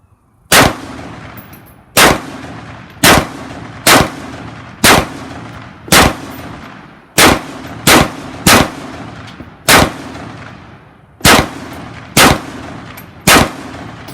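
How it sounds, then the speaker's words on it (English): An AK rifle fitted with a prototype adjustable gas system fires standard Russian ammunition outdoors, about thirteen loud, sharp single shots at an uneven pace, each with a short ringing decay, and no voices between them. "The first clip we're going to show you is going to be standard Russian ammunition,"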